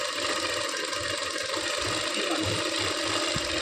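A sewing machine runs continuously, stitching the side seam of a blouse, with a steady mechanical whir and a faint rhythmic needle pulse throughout.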